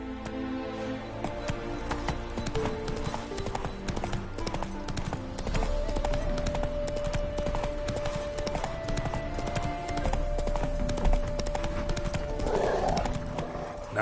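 Roach, the horse in The Witcher 3, gallops in a steady, loud clip-clop of hooves that runs through the whole stretch over game music, with a brief whinny near the end.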